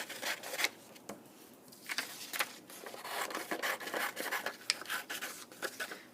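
Scissors snip through paper along a traced line while a deer craft shape is being cut out, a close, quiet series of irregular rasping cuts and slides with brief pauses.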